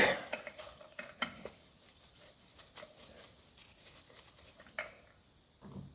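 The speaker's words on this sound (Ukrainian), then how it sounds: "беремо далі пензлик і миємо пульвік" A brush scrubs a paint spray gun in solvent after its nozzle has been removed, producing faint, close bristly scrubbing with light metallic clinks and scrapes in irregular bursts.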